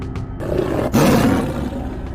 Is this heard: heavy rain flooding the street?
no